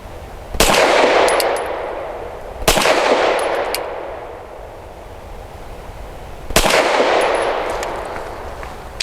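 Three loud pistol shots from a Canik SFx Rival S at an indoor range, each a sharp crack with a long reverberant decay, spaced unevenly a few seconds apart.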